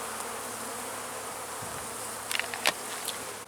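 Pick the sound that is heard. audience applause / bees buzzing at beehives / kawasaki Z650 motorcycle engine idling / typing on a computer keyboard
bees buzzing at beehives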